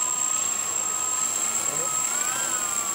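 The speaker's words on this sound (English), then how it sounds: "You can hear that the motor are spanning less fast." The six motors of a Flying3D X6 hexacopter spin at low battery voltage, giving a steady whine with a high constant tone and a pitch that drifts slightly as they run slower.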